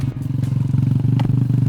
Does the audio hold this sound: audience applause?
no